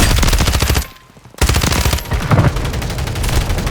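Rapid, loud bursts of automatic gunfire in Call of Duty: Warzone 3 fill the clip, pausing briefly before the rattling volleys resume without letup.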